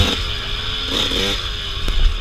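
Enduro dirt bike engine at a sprint enduro race, a steady buzzing motor with a brief change in pitch and a sharp clack near the end as gears are shifted, close and fairly loud.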